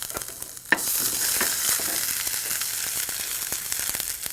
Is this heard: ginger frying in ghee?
yes